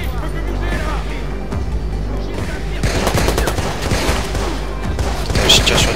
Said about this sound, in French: je tire sur des civils